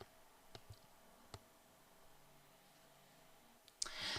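A few sharp computer mouse clicks, isolated and fairly quiet, spaced across a near-silent stretch, followed by a brief louder rustle at the end.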